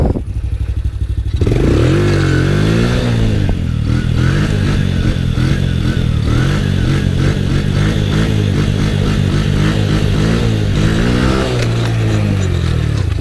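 An ATV engine revs hard through a big burnout, a loud, continuous raw roar with rising and falling pitch sweeps and some clattering, close and dominant throughout with no talking.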